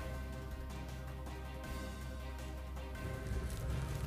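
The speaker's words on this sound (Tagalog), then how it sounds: "Sa lakas ng ulan na sinabayan pa ng malakas na hangin" Steady, dense rain from Super Typhoon Rolly pouring down without pause, with strong wind, a continuous heavy wash of sound with a low rumble underneath.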